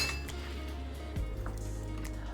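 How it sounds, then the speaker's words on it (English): Cubed tofu pieces dropped into a bowl, giving a few soft close clinks and taps against the dish at a quiet level, with no talking. "I'm going to place them into a bowl"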